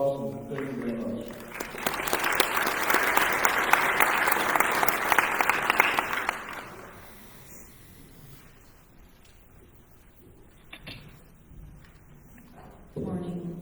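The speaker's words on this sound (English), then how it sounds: "So give yourselves a round of applause and thank you very much." Applause from a business meeting audience, starting moderately and swelling into sustained, fairly loud clapping for several seconds before dying away into quiet room murmur and scattered small sounds.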